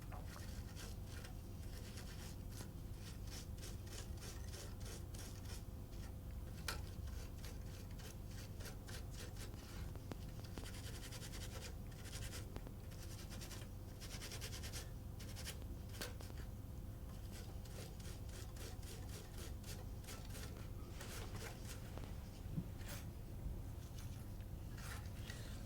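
Brass inlay on a Boulle cabinet being flattened with a burnisher during restoration, a steady close run of dense scraping and rubbing strokes with faint clicks, continuous and without talk.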